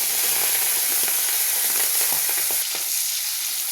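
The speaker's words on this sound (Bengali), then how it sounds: "তেল গরম হয়ে গেছে, চিংড়ি মাছটা ভেজে নেব" Shrimp fry in hot oil with a loud, steady crackling sizzle that stays close and continuous, and a few light stirring sounds come through beneath it.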